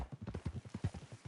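Horse hooves clip-clop at a quick, even walking rhythm in Red Dead Redemption 2, the muffled beats fairly faint and close-miked.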